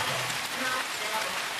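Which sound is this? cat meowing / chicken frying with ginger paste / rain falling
rain falling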